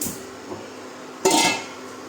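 A lid goes onto a pot of moong and masoor dal with one sharp metallic clank midway. Quiet kitchen sound comes before and after it, and no one speaks.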